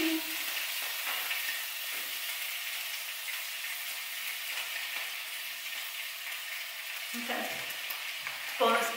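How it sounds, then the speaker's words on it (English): Vegan bratwurst sizzles steadily in a frying pan, a continuous close crackle of frying that runs throughout, with a few brief clinks and stirring knocks near the end. "Oh, I hear it cooking."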